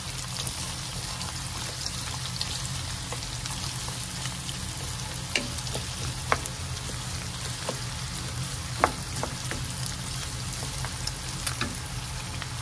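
Chopped onion frying in oil in a home kitchen gives a steady, close sizzle throughout, punctuated by occasional sharp pops and spatters.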